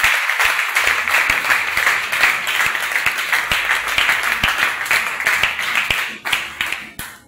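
A church congregation at a Saturday service claps together in praise, a dense steady applause that holds for several seconds and thins to a few scattered claps at the end.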